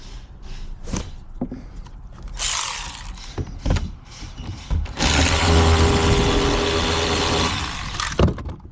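Ratchet loosening 10 mm nuts from a trailer brake module on a newer Dodge truck, with bursts of clicking ratchet turns and metallic handling noises mixed with heavier rustling close by.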